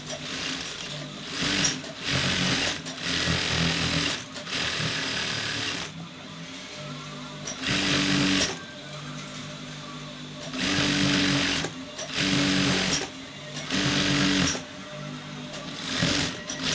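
Sewing machine stitching the legs of joggers or sweatpants in repeated bursts of fast mechanical whirring, each lasting about one to two seconds, separated by short pauses.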